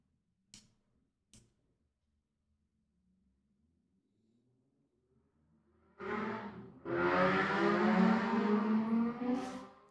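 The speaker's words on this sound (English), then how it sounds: "Those are some motorbikes out there." Motorbikes pass outside an open window: a faint rising engine whine, then a loud, close, rough engine roar that swells and holds for several seconds, with a couple of clicks at the start.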